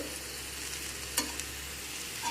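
Vegetables with salt being stirred in a pan, a quiet steady sizzle with one sharp scrape of the spoon against the pan and a faint clink toward the end.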